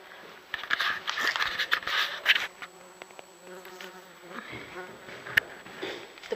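Flies buzz around a person exploring an abandoned building on a military range, their droning whine rising and fading close by for several seconds, with footsteps and small scuffs underneath.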